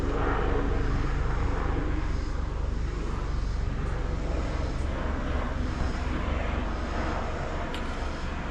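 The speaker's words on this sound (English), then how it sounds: "Is that the police helicopter?" A police helicopter flies overhead, a continuous loud broadband whirring roar that holds steady throughout.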